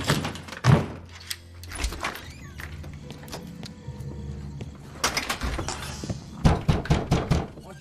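In a motel room, repeated heavy thuds and bangs pound on the wall, coming in irregular clusters of loud, close knocks with quieter rattling between them.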